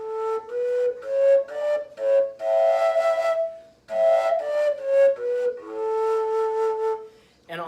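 Fujara, a long overtone flute, played in a series of sustained tones stepping through overtones, with breathy attacks, short gaps between phrases and a final brief note, close and clear with no talking.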